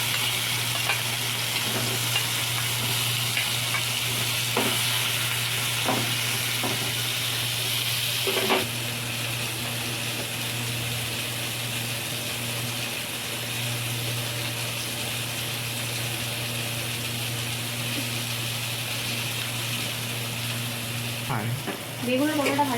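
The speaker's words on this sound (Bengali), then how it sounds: "এবার কড়াই তেল দিয়েছি, সাদা তেল। এর মধ্যে আমি এবার বেগুন আর পটলটা ভেজে নেব।" Brinjal and pointed gourd fry together in white oil in a wok, giving a steady close sizzle with a few sharp clinks and stirring knocks along the way.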